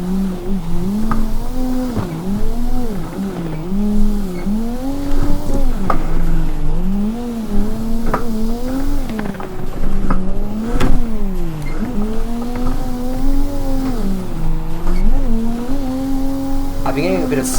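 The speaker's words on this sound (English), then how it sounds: "Alright, foggy drifting in the mountain." In a racing video game, a car drifts on a foggy mountain road at night. The engine revs up and down in a steady, wavering drone, with tire squeal and skidding running loudly and continuously.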